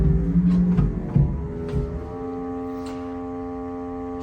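Pipe organ sounding its 16-foot clarinet stop, a sustained reedy low tone holding steady with a few overlapping notes that shift and settle, with mild room reverberation and no voices.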